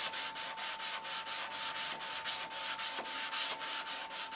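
Sandpaper rubbing the wooden fuselage of a control line stunt model airplane, a steady rhythm of close, soft scraping strokes at about four per second, with no voices.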